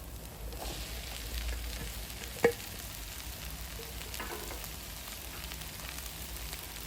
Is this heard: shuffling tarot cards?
no